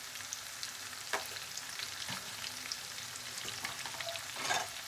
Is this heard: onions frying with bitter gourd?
yes